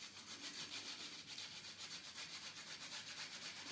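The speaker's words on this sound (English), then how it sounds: "I'm just going to get this medium grade sandpaper. I'm just going to go over all the edges and round them off" Medium grade sandpaper rubbed back and forth over the sharp glass edges of a reef aquarium tank, a faint, steady rhythmic scratching with no talking.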